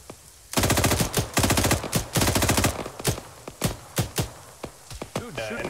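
Sustained automatic-weapon bursts from the Arma 3 combined-arms battle, loud and close, with rapid rattling volleys followed by separate single shots spaced apart, no talk.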